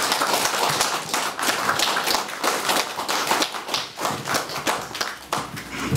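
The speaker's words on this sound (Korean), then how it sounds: "여러분 뜨거운 격려의 박수 한번 더 보내주십시오" Sustained audience applause at a press conference for a gubernatorial candidacy announcement in Jeju, dense loud clapping from a room of people that carries steadily throughout without talk.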